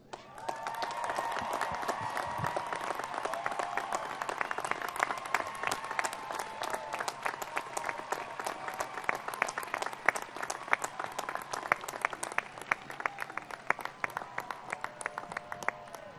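A large university commencement audience applauds the faculty, sustained dense clapping from a big crowd that carries on steadily for the whole stretch, filling the hall without a break.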